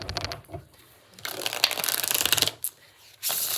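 Tarot cards are shuffled in a few bursts, brisk riffling flutters separated by short pauses, close and clear with no talk.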